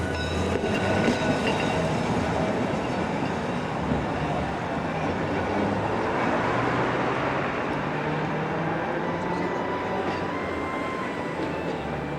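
A tram rumbles steadily along its tracks, a continuous rolling drone with faint rattles and metallic clatter throughout, no voices.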